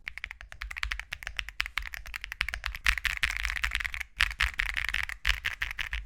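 Typing on an IO Custom mechanical keyboard with its stock switches: rapid, close, crisp keystrokes in an uneven steady rhythm with a few brief pauses, no voices.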